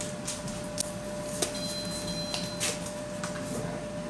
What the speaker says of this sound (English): I've got the air fryer heating up.